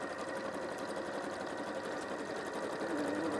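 A domestic sewing machine stitches a zip and lining together, giving a continuous, even buzzing whir at moderate distance with no pauses and no voices.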